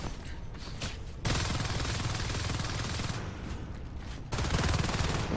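Video game battle gunfire rattles in dense bursts, loud and close, with heavy sustained volleys broken by a short lull before another intense barrage.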